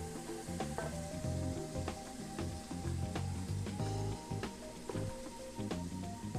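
Pot roast searing in a Dutch oven, a steady close sizzle and crackle of hot fat that holds at an even level throughout, with scattered sharp pops over the frying.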